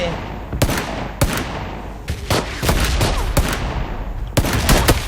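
Rapid gunfire bursts from the shooter game PUBG Lite, sharp broadband cracks arriving in irregular clusters with short gaps, loud and close, while excited voices shout over the shooting.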